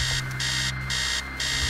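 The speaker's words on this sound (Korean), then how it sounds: "2층에서 알람시계가 요란하게 울리는 소리가 납니다" A loud, close alarm clock rings in a horror video game, its shrill bell clanging in pulsing bursts with brief pauses between them, alone and continuous.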